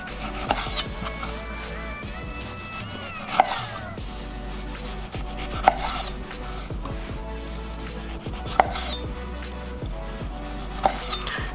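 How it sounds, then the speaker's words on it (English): A knife slices the skin off an orange in a circle, giving close, soft scraping and rubbing with a few sharp taps against a board at intervals. "I'm using that line as a guide to peel off the rest of the orange."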